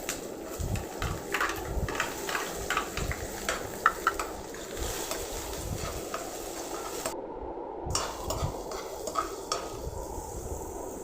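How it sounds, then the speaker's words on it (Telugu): Chopped onion frying in two spoons of hot oil in a pan: a continuous soft sizzle with scattered scraping and clinking as a utensil stirs it. Quiet and close, with no voices. "2 స్పూన్ల ఆయిల్ వేసుకొని ఆయిల్ వేడైనాక ఆనియన్ అయితే వేసుకోవాలి."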